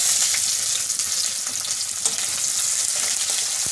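Onion and bay leaf fry in hot oil for a cabbage fish head curry, a loud, dense sizzle that stays even and close throughout with no voices.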